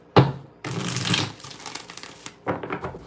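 A deck of tarot cards shuffled up close: a crisp initial snap, then a long rustling riffle and a shorter flurry of card flutter after a pause, with no voices.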